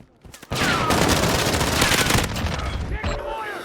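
Sustained automatic gunfire from Call of Duty: Modern Warfare erupts after a short lead-in, a loud, dense rattle of rapid shots that tapers slightly before a final sharp burst near the end.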